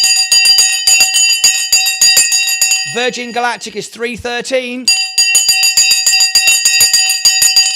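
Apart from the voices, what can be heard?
bell ringing for the stock market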